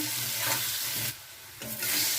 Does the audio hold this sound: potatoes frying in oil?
yes